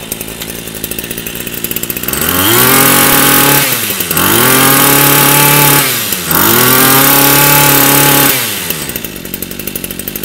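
A small used Japanese two-stroke brush cutter engine, model Z3, is pull-started and runs loud and close, revving up and down in several surges with brief dips between.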